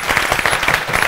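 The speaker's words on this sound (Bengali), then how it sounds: "একটা জোরে হাততালি মিলাবে" Studio audience applause on a Bengali ladies' quiz game show, a loud, dense burst of many hands clapping together for the full moment, close and continuous with no talking.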